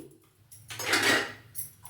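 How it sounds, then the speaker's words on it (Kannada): A metal frying pan is set down on a kitchen stove with a single bright clatter and a short ringing scrape, close and fairly loud against a quiet room. "ಇವಾಗ ಮತ್ತೆ ಬಾಣಲಿ ಇಟ್ಕೊಂಡಿದ್ದೀನಿ"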